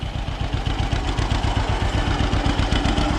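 A John Deere 50 tractor engine idles close by with a loud, steady, rhythmic low chug and faint clatter. No one speaks over it.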